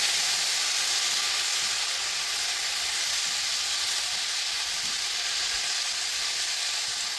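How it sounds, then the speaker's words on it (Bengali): Water poured into a hot pan of browned fried eggs in a kohlrabi curry, giving a continuous broad hissing sizzle that holds steady and even throughout, close and fairly loud, with no talking. "জল ঢেলে দিচ্ছি"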